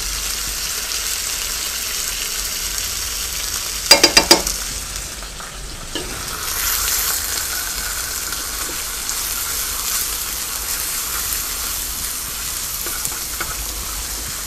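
Chicken frying in butter as garlic is added, a steady loud sizzle throughout with a brief burst of clattering stirring strikes early on, no talking.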